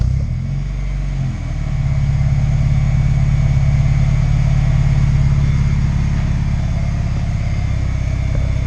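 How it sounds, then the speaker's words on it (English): A car engine pulls steadily in fourth gear on a budget Clayton chassis dyno, a loud, sustained low drone that holds a constant heavy roar for most of the run with no talk over it. "they're gonna hear my fourth gear drive"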